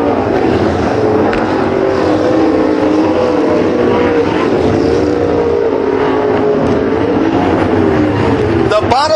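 Sprint cars racing on the Waco track in Texas, a loud, constant roar of several engines with wavering pitch as they run through turns three and four, under a race announcer talking throughout.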